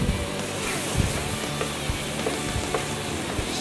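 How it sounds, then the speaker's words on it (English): Seasoned taco meat sizzles steadily in a hot pan, with soft scraping and clacking as it is stirred, the frying hiss continuous and close with no voices. "And I'm gonna stir it again."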